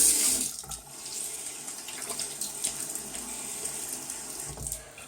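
Tap water runs steadily into a sink while someone wets their face before a shave, a close, continuous hiss with small splashes and shifts as hands move through the stream.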